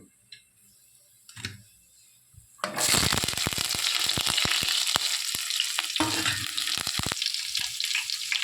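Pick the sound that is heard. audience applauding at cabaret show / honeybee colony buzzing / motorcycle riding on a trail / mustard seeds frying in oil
mustard seeds frying in oil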